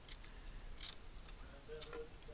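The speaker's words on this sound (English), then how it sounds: "We're going to take our scissors." Scissors cutting through a lighter strap, heard as a few faint, crisp snips and clicks in a quiet room.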